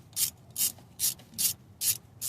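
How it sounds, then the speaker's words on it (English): A bolt being worked loose at the bottom of a 2012 Chevy Equinox with a 2.4L engine, six evenly spaced ratcheting strokes, each a crisp, close clicking burst with brief pauses between them. "Right now, I'm at the bottom, getting this bolt out."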